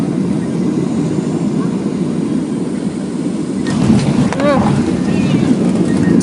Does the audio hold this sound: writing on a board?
no